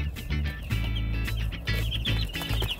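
Young Cornish Cross chicks cheep in a steady, busy chorus of high chirps, close by, while they peck and tug at a scrap of cardboard under a constant low background hum.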